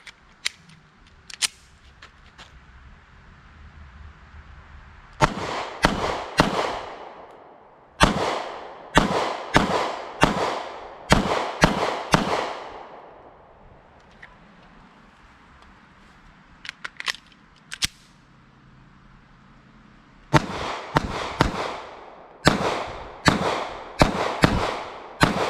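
Ruger Max 9 pistol fitted with a Ruger Ready Dot optic firing in quick bursts of sharp, loud shots, several clusters separated by short pauses, with a few fainter pops between and no talking.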